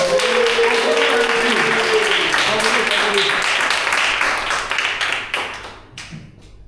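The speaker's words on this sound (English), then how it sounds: "give her a round of applause" An audience at a Toastmasters meeting applauds steadily for several seconds, a dense wash of clapping under a voice that fades out near the end.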